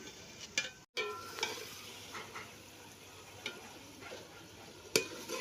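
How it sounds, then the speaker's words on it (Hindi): Meat and potatoes with turmeric and chili frying in a pan for a desi aloo gosht: a low, steady sizzle broken by scattered spoon scrapes and stirs, fairly faint and close. "अब जो है इसे मैं अच्छे तरीके से भूनूंगी"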